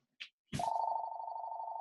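A telephone rings with a steady electronic trill right after a short click and clunk, continuous and fairly loud, sounding in a quiet room.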